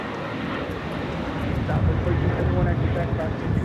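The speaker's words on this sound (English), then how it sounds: "This is Korean Air Flight 18 taking off to Seoul on the A380." Korean Air Airbus A380 taking off at LAX, a deep swelling jet rumble that grows louder partway through, with a person talking over it.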